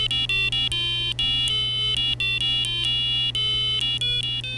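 A homemade one-octave toy organ plays a quick sequence of buzzy electronic square-wave notes that hop between pitches with short gaps, loud and close over a steady low hum.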